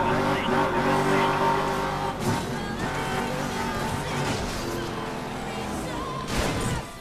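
A race car roars through Need for Speed Most Wanted 2, its engine droning loud and close with gear shifts and a late surge, while a player talks over it.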